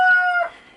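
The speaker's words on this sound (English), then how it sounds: "we had another rooster. We called him Henry" A rooster named Henry crows close by in a single loud, clear burst that trails off within a second.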